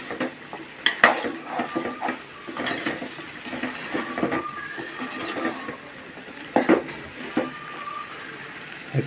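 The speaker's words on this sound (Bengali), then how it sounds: "এটা ভালো করে কষাইতে হবে, 10 থেকে 15 মিনিট কষাইতে হবে" Home-cooked Bengali curry of potato, ribbonfish dried fish, Malabar spinach stems and chana dal being stirred and sautéed in a pot, with repeated metal spoon scrapes and clinks over a soft sizzle, close and irregular.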